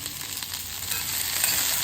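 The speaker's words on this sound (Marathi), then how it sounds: "भेंडीला मस्तपैकी क्रिस्पी होतोपर्यंत फ्राय करून घेते" Okra frying in a pan until crispy, a steady bright sizzle with slight swells and faint stirring, close up and fairly loud, with no voices.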